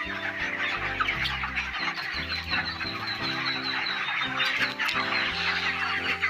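Broiler chickens cluck and chatter together in a farm shed, a dense steady flock noise with overlapping calls and occasional louder squawks, moderately loud and unbroken, with no talking.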